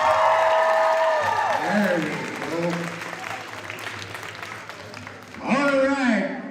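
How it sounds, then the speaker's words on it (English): A crowd applauds steadily for the red-tail singers at a powwow at Lakeland College in Lloydminster, a broad sustained clatter of clapping, while a voice talks over it throughout. "round of applause for red-tail singers"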